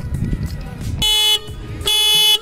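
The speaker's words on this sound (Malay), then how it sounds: "kalau korang pasang bateri ni, selalunya memang alarm akan bunyi" A car alarm sounding as a car battery is reconnected: two loud, sustained tonal blasts, each broken by a short gap, follow a moment of rustling handling noise.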